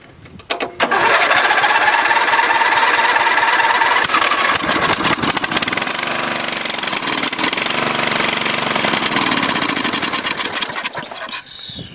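A Dynamark lawn mower engine starts and runs loud and steady with the choke on, a continuous rough mechanical drone that holds for about eleven seconds before cutting off near the end.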